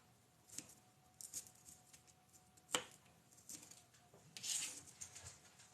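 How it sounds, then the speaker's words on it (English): Fresh garlic diced with a knife on a cutting board in a home kitchen, giving a few scattered, quiet chopping taps with one sharper knock midway and a brief scraping burst near the end, all low and close. "just dicing up a little fresh garlic"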